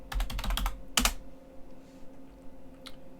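Typing a command on a computer keyboard while connected to an Ubuntu server: a quick burst of clacking keystrokes, one sharp strike near the second, then a few faint isolated taps, close and alone.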